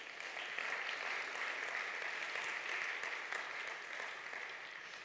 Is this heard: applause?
yes